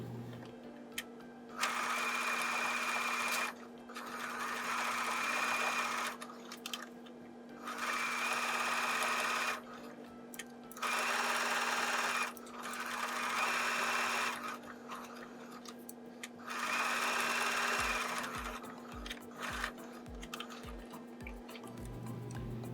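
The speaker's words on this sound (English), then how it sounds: "just using a straight stitch, stitch all the way around the edge at about a seam allowance of like 1/4 of an inch" Sewing machine running in repeated bursts of straight stitching around the edge of a fabric face mask, several steady runs separated by short pauses, close and clear with no talking.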